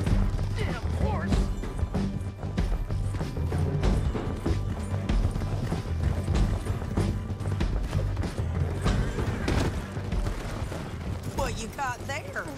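Horse hooves clatter amid chaotic commotion with crashing, thumping impacts in Red Dead Redemption 2, dense and continuous throughout, with voices shouting over the din.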